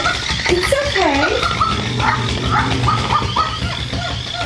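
A dog whimpers, yips and gives short barks while going after a bag, its whiny pitch-bending cries sitting over a constant loud background rumble, with people talking nearby.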